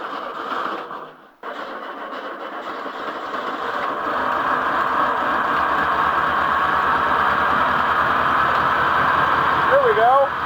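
A car engine cranks briefly, cuts out, then catches and settles into a loud, steady idle just after a fuel filter replacement, running close and alone with no speech over it.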